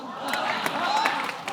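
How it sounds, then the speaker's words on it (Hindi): Studio audience on The Kapil Sharma Show applauding and cheering loudly for Hazel Keech, a continuous roar of claps and whoops with raised voices in the crowd. "एक बार हेजल के लिए जोरदार तालियां।"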